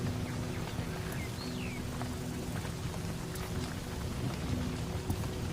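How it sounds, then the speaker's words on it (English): Heavy rain pours steadily during an African thunderstorm, a dense continuous hiss with low thunder rumbling beneath it throughout. "The storm's really kicking in now"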